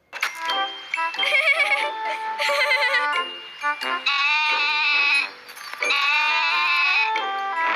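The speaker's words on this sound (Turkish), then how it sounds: "Bizim keçi geldi." Goats bleat loudly and repeatedly up close, long wavering cries in a steady series with brief pauses between them.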